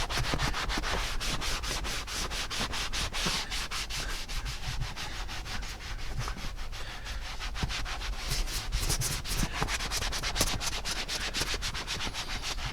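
A sponge works conditioner into a warm leather car seat, producing a close, continuous rhythmic rubbing and scuffing with fast back-and-forth strokes throughout.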